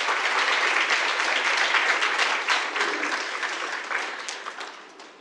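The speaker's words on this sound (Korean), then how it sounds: "박수로 맞이해주시기 바랍니다" Wedding guests give a dense, warm round of applause to welcome a congratulatory song at a Disney-themed wedding ceremony, the full-room clapping holding steady before gradually tapering off.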